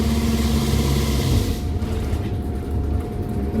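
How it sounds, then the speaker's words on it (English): An MCI bus diesel engine, fresh from a jake brake repair, runs with a loud, steady low rumble and mechanical drone that eases slightly partway through, with no talk. "Does the engine sound good? it sounds great"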